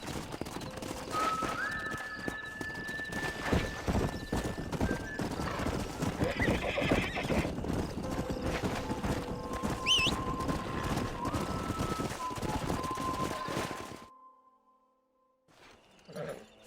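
Hooves clatter in a steady, busy rhythm while horses neigh and whinny over them in a video game, then everything drops away into near silence.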